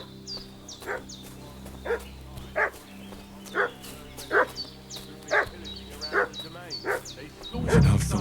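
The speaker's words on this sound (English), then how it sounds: "What's that dog making such a fuss about?" Dog in the game Kingdom Come Deliverance 2 barks repeatedly in a steady rhythm, about one bark per second, moderately close, over a faint low ambient hum.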